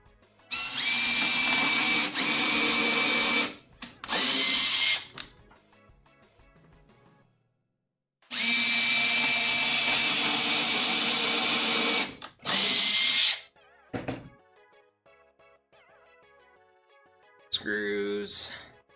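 A power drill bores holes during construction of a shop utility cart, whirring in several loud close bursts of differing lengths separated by pauses, with a short shorter run at the end.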